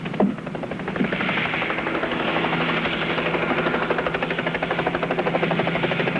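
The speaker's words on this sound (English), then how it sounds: "the copter's coming in." A helicopter's rotor thumps in a steady rapid chop, a sustained, fairly loud drone that holds constant as the aircraft comes in, with no voices over it.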